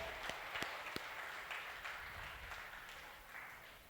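A church congregation applauds loudly and steadily for several seconds, a dense, continuous wash of clapping filling the room, with a few sharper individual claps and faint voices mixed in.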